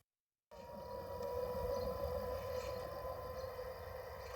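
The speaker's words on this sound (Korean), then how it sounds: "바람 소리 같기도 하고 사이렌 소리 같기도 한 정체를 알 수 없는 이 소리. 북한의 대남 방송입니다." A North Korean propaganda loudspeaker broadcast carries across the border to Ganghwa Island as a faint, steady, siren-like wailing drone. It starts abruptly and holds an unbroken tone over low rumbling background noise.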